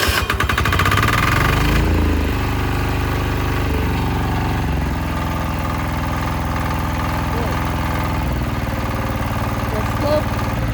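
A Husqvarna 25H diesel walking tractor engine cranks on its starter, catches, then settles into a steady, close mid-pitched idle that runs with little change in level.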